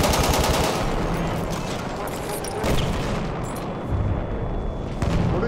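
Grenade explosion and heavy gunfire in the World War I shooter Battlefield 1 at Fort De Vaux: a dense, loud battle din of rapid shots and booming blasts that runs continuously, with a few sharper cracks near the end.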